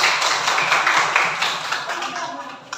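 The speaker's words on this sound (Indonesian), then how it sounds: "Tepuk tangan untuk kelompok." Students in a classroom clap for a presenting group, a close, fairly loud burst of hand claps that fades toward the end, with some voices mixed in.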